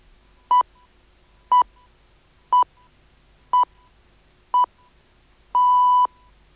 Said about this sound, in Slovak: Časové znamenie ohlásilo 4 hodiny 30 minút, 4:30.